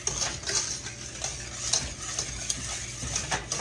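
Flour being stirred into brownie batter in a mixing bowl, with a utensil scraping and knocking against the bowl in a steady, repeated rhythm, close up and moderately loud, with no talking.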